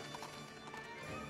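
Horse hooves clip-clopping in the video game Princess Peach Showtime, a short quick patter of hoof taps under steady game music, mid-loud and close.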